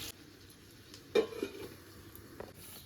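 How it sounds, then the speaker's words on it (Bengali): Onion and potato frying in a covered pan, a soft steady sizzle with a brief clatter of the spatula or lid partway through, close and fairly quiet with no talking. "এবার বেশ লাল লাল করে পেঁয়াজটা আর আলুটা ভেজে নেব। একটু ঢাকা দিয়ে দিয়ে ভাজবো"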